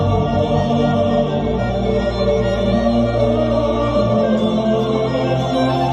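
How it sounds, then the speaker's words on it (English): A really fast fiddle saws out an urgent, driving line over a dense, loud backing, continuous and unbroken throughout; no voices. "specifically the usage of a really fast fiddle"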